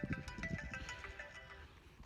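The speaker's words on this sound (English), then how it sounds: "Hold on, my phone's going off." A phone ringtone going off indoors, a short melodic run of bright electronic tones over quick percussive beats, moderately loud with no talking.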